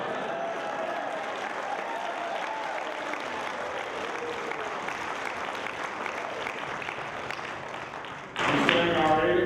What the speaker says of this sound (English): I think you should give us some applause